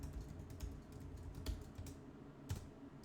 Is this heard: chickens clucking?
no